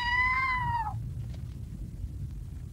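A cartoon cat lets out a single falling meow at the start, close and clear, followed by a low rumbling background with no voice.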